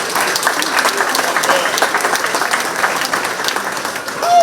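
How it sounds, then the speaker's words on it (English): Sustained applause from an audience at a county fair queen pageant, honoring the queen candidates; dense steady clapping fills the whole stretch without pause. "round of applause for all of our amazing candidates we have this year"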